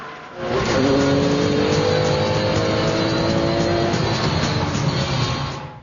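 A Maserati MC12 on track with its engine roaring loudly, tires squealing under heavy braking into a hairpin, steady and close for several seconds.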